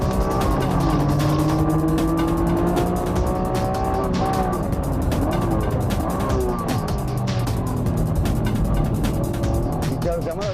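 Race cars, including a Honda NSX-R running on slick tires, roar around a track infield of tight corners, with loud, continuous engine noise and shifting revs throughout, plus tire squeal, as a voice talks over it.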